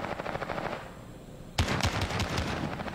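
Gunfire in a video game shooter: rapid automatic bursts near the start, a brief lull, then a loud sudden volley of close, sharp shots that keeps rattling on.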